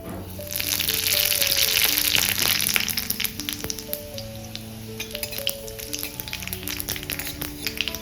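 A dry red chili and two bay leaves sizzle and crackle in hot mustard oil in a kadai, loud at first and then settling into a steady spitting fry, with faint tonal sounds underneath.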